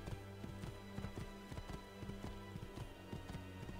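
Rhythmic horse hoofbeats in Assassin's Creed 2 clip-clop at a steady galloping pace, layered over looping synthetic background music, evenly loud throughout.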